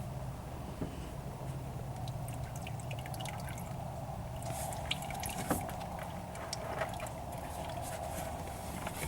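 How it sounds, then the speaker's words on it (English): Engine oil draining from a 2013 Ford Escape during an oil change, a steady low trickle and pour with scattered drips running continuously beneath faint workshop noise. "he's going to unscrew it and let the oil drain from that"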